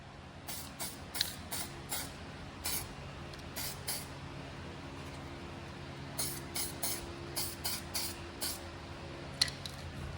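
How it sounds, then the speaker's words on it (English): U-POL weld-through primer sprays from an aerosol can onto bare metal of a 1988 Cutlass seat, in many short hissing bursts at an irregular, quick rhythm, close but fairly soft, with no speech. "This what I'm using right here. U-Paul weld through primer."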